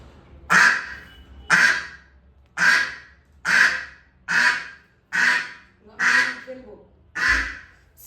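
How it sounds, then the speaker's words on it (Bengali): A duck quacks eight times at a steady, even pace, each call loud and close, with little else behind it. "এদিকেই হাঁসটা চলেন দেখাই।"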